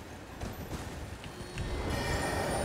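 Horse hooves clop in a steady running rhythm in Elden Ring, a moderately loud galloping patter that grows fuller toward the end.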